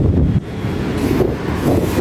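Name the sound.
wind blowing on 8th floor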